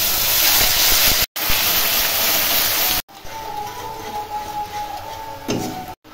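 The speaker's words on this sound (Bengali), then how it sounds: "এবার আমি মশলাটা দিই।" Spices going into hot oil already tempered with cumin, dried red chili and bay leaf for dal, giving a loud, steady sizzle that drops to a quieter crackle after a brief break, close to the pan, with no talking.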